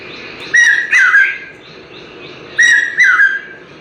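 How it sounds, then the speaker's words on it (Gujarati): Common hawk cuckoo, the brain fever bird, calls twice in rising, whistled phrases, each of two quick loud notes, sounding fairly near and clear over a quiet background. "કોમન હક કક્કો"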